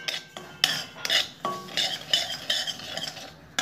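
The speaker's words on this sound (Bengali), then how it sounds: "এই যেরকম ডালিয়া ভালো করে আমি ডালিয়াটা সাঁতলে নেব" Broken wheat (dalia) is sautéed and stirred in a pan with a spatula, giving close, steady scraping strokes about twice a second with light clinks against the metal, and no talking.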